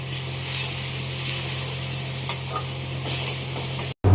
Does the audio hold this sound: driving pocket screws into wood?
no